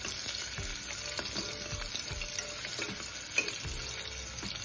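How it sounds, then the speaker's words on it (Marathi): Onion sautéing in a pan for peas pulao gives a steady close sizzle and crackle, with occasional stirring scrapes and clinks. "हा तो कांदा जरा लालसर परतून घ्यायचा।"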